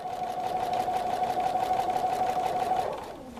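A regular domestic sewing machine stitches an appliquéd fabric circle, a steady rapid whirring hum with fast needle pulses that runs continuously, then slows and winds down at the end, close and clear.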